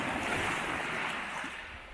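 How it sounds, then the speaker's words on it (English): Sea waves wash steadily over rocks near a lighthouse, a loud continuous rushing surf with wind mixed in, no voices. "just waiting for the water to wash over that rock there"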